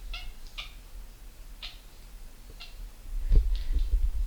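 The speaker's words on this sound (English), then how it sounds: "she's a very noisy kitty" Pebble, a noisy pet cat, lets out several short meows spaced across a quiet indoor room, with low thumps and rumble building toward the end.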